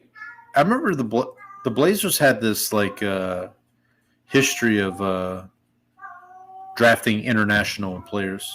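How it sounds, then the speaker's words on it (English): A cat meows in the background at home, the high wavering calls surfacing between stretches of close conversational speech that dominates the scene. "That's my cat."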